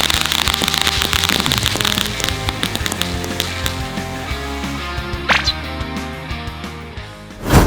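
Rapid crackling bursts of New Year fireworks in Thailand pop continuously, dense and loud, then thin out before a final sharper bang near the end.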